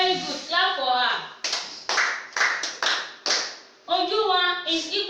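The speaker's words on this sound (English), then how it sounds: "Clap for her." Schoolchildren in a classroom clap for a classmate in several sharp, rhythmic bursts. Children's voices and an adult's voice come before and after the claps.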